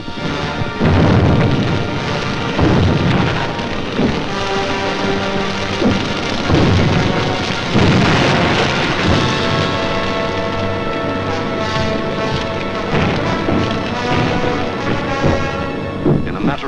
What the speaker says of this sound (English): Millions of firebombs rained down on the great city of London.